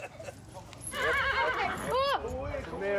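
A horse neighs and whinnies loudly at an Irish travellers' camp, a rising then falling whinny following a shuffle of hooves, with voices talking around it.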